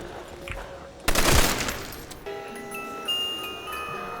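Ray gun from Call of Duty: World at War zombies fires a loud burst, followed by electronic whirring and tonal weapon effects from the game, with no voices.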